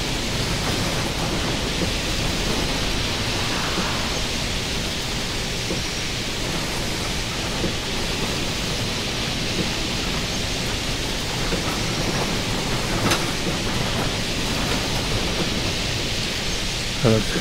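Steady rain from the OMSI 2 bus simulator, a dense continuous hiss drumming on a MAN New Lion's City 12C bus on a rural route near Velké Opatovice, loud and unbroken throughout.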